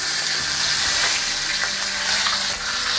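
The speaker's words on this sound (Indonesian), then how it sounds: "Setelah minyak panas, lalu goreng ikan" Fish frying in hot oil in a home kitchen, a dense, steady crackling sizzle that stays loud and close for the whole stretch with no talk over it.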